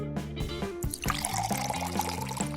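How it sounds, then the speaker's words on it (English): Water tinted with pink paint pours into a bottle, gurgling and splashing close up, its pitch shifting as the bottle fills over a couple of seconds. "Add pink paint to water. Pour it into the bottle"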